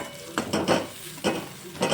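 Onions sautéing to golden brown in a pan for Kathiyawadi sev-onion curry, a steady low sizzle broken by several separate bursts of stirring scrapes.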